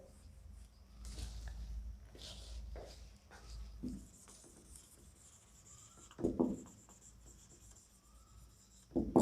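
Chalk or marker scratching across a classroom board in bursts of writing strokes, with soft taps and rubs between them, fairly close and unaccompanied by speech.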